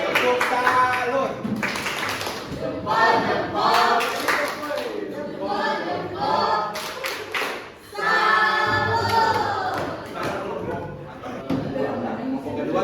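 Rhythmic salute clapping by a class of students after a group presentation on global diversity, patterned bursts of hand claps mixed with voices and chatter in a classroom.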